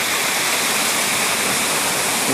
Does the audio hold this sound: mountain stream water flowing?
yes